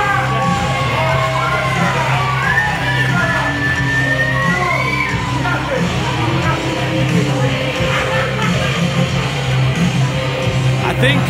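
Spectators at a live wrestling event in Woodham Ferrers cheer, yell and whoop continuously, a dense loud crowd roar with individual shouts and children's cries rising above it, while a commentator talks over the noise.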